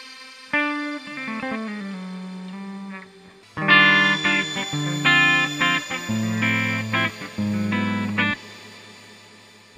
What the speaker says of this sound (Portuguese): o shimmer é esse reverbzinho que você tem umas notas, né, harmonizando com a nota que você está tocando lá na cauda